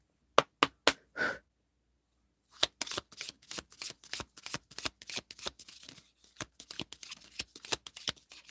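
Tarot cards shuffled by hand: a few sharp separate snaps, a short pause, then a long run of quick riffling and tapping, close up and without talk.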